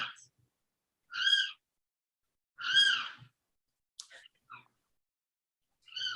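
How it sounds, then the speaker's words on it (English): A loud bird calls outdoors in Florida, repeated harmonic hooting notes in slow spaced bursts with silence between them. "Is that a Florida bird? Oh, that's a bird."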